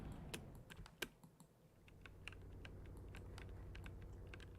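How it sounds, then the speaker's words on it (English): Computer keyboard typing during an ASRS racing league event, with irregular quick keystroke clicks, a dense burst early and then steady scattered taps over a low continuous hum. "Yo, Eric, is your keyboard broken or something?"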